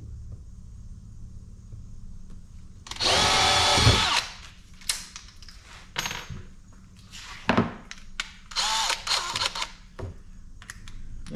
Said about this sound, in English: So I'm gonna go ahead and drill a pilot hole.